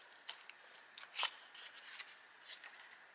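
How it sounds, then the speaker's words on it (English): Small scissors trimming the edge of a handmade paper card: a few quiet, crisp snips at irregular intervals, one sharper cut in the middle, close and alone against a near-silent background. "I need to trim that little bit right there. Let me get my small scissors."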